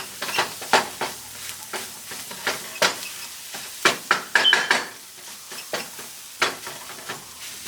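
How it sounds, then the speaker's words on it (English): Tomato paste and vegetables sauté in a pan, giving a soft sizzle with sharp, irregular clinks and scrapes from stirring, close and fairly quiet, with no voices. "Cook this down, make sure the tomato paste is nice and sauteed"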